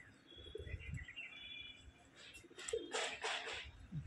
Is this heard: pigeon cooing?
yes